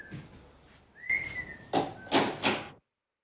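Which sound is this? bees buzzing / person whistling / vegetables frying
person whistling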